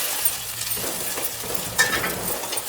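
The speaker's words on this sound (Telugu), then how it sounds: "అల్లం వేగగానే 3 టమాటాలు కట్ చేసి పెట్టుకొని వేసుకోవాలి." Chopped tomatoes drop into a pan of frying ginger and sizzle loudly and steadily up close, with a few light clinks of a spoon stirring through the hiss.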